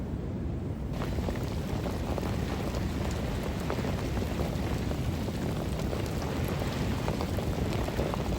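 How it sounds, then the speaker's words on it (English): Steady rain shower at a winter carp fishing lake, a dense continuous patter and hiss with no gaps, fairly loud and unbroken throughout, with a faint wind-like rush underneath. "after that unexpected rain shower"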